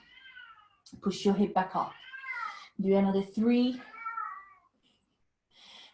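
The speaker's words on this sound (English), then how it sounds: "that's my cat. I'm sorry, he's very loud." A domestic cat meows loudly several times at close range in a home during a yoga session, long drawn-out cries overlapping with a person giving instructions.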